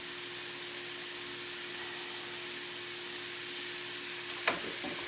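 Ground meat browning in a pan for keto chili, seasoned with salt and pepper, gives off a steady low sizzle, with a brief scrape or stir near the end.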